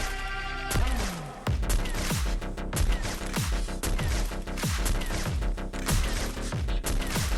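Repeated booming sniper rifle shots fire in quick succession, about a dozen loud cracks with ringing tails, from double sniper fast switching in a mobile shooter game.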